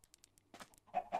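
Chickens on a Minecraft farm give a few short, faint clucks, then louder, closer clucking toward the end, with no talk over it.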